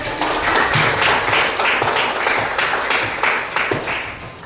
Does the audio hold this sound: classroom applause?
yes